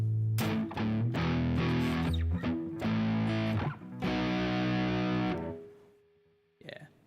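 Distorted electric guitar chords ring out loud and close through a Beebo/Hector amp simulator, several strummed phrases, then a sustained chord fades with a brief noise at the end.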